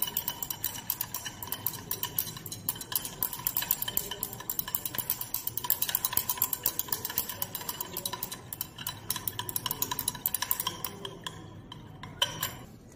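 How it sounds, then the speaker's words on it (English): A chloroform water mixture being stirred constantly in lab glassware, giving a steady run of light, rapid clinks and ticks at moderate loudness throughout, with no talking. "Stir it constantly"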